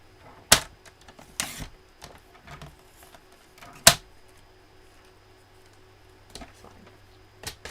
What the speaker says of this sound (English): I'm just going to use the lines on my trimmer to cut this down.